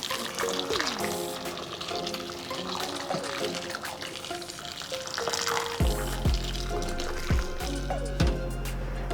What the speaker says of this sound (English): Fill this with water.